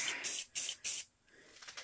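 Spray paint hisses onto a Phantom of the Opera mask in three short, close bursts separated by brief pauses, then a fainter, softer hiss trails off.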